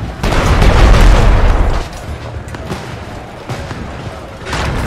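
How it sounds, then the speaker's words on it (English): Cannons in the video game Shadow Tactics fire on castle towers, giving a loud booming rumble of blasts that swells at the start and trails into a rough, crackling roar. "Aim the cannons!"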